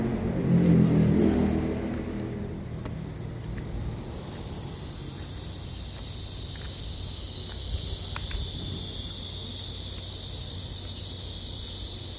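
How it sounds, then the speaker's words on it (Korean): Outdoor cicadas buzzing in a steady, high, continuous drone that swells slightly over time, with a low rumble early on and faint scattered clicks. "어디선가 매미 소리가 나는 건 좋은 데서 물이니까 나는 거야."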